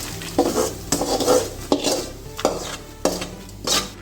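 Fried onions tipped from a pan into a pot of tomato kootu, giving a run of metallic scrapes, clinks and stirring scuffs with a light sizzle, close and fairly loud, with no talking.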